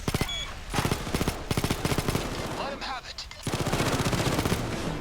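Rapid gunfire in the video game Payday 2: quick stuttering automatic bursts of sharp, close shots, broken by short pauses and softer game sounds in between.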